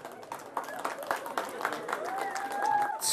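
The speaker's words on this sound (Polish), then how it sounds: "Wielkie brawa." Applause from an audience at a satirical arts award ceremony, a steady patter of clapping lasting a few seconds, moderately loud and mixed with faint talk in the background.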